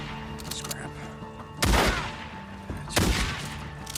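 Gunfire bursts in the zombie-survival video game Days Gone: two heavy booming shots about a second apart ring out over a low game background, with faint rapid clatter early on.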